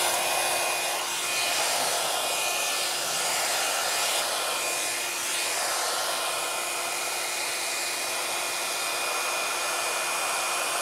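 A Babyliss Big Hair hot brush dryer blows steadily while straightening hair, a constant loud airy whir with no talking.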